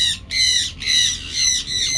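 Birds being hand-fed aboard a cruise ship squawk loudly and close by in three harsh, drawn-out calls separated by brief gaps.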